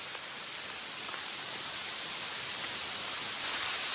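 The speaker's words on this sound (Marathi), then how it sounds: "कसला पाऊस आलाय बघा. आवाज ऐकू येत असेल तुम्हाला." Steady morning rain falls over Konkan village countryside, a dense, even hiss of drops on leaves and ground, close and continuous with no voices.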